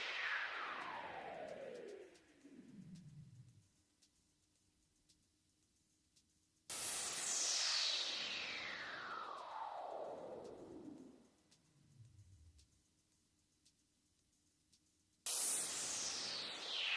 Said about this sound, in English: Now we have a noise sweep